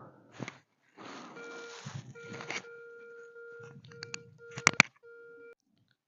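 A metal detector sweeping for buried coins gives off a steady electronic tone lasting several seconds, broken by brief rustling and scraping bursts of handling and digging nearby.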